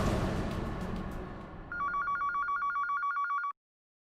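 Telephone ringing alone in a quiet room, a rapid warbling electronic ring repeating for about two seconds before cutting off, following fading background noise.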